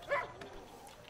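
A single short dog bark from the video game Far Cry 5, a quick yelp followed by faint game background sounds.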